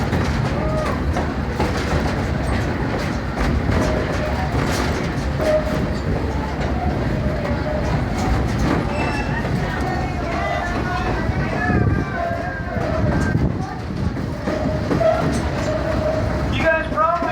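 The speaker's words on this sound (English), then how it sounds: "You guys probably want to know a little bit about the train that we're riding on." Passenger train ride through Stone Mountain Park, a steady rumbling rail clatter with wheel clicks running throughout, mixed with crowd chatter and voices from riders on board.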